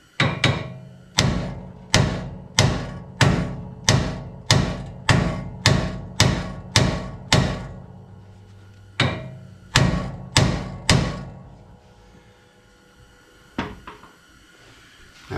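Sharp metallic hammer blows popping loose the lower control arm ball joints on a 1966 Dodge Charger, about sixteen evenly spaced ringing strikes in two runs with a short pause between, close and loud with no talking.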